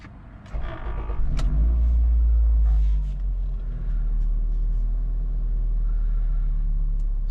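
A 2006 Toyota RAV4 petrol engine starts with a brief whir, then settles into a steady low rumble, idling evenly and close by with no voices.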